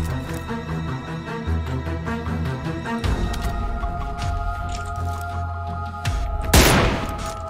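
Gunfire in the PC game PUBG Lite: rapid bursts of automatic shots in a dense rhythmic fusillade, with booming impacts and a sharp loud crack near the end, no talking.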